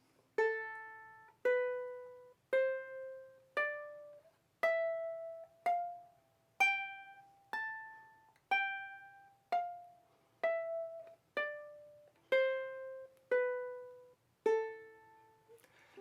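Sixteen single plucked ukulele notes on one string, evenly spaced and slow, each ringing then decaying, stepping through a minor scale, clean and close with no talking.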